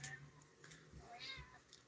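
A house cat meows several times close by, short rising and falling calls spaced irregularly over a quiet room.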